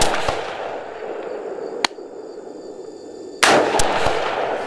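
Rifle shots fired at a target 200 yards away, two sharp loud cracks several seconds apart, each followed by a noisy outdoor rush, no talking.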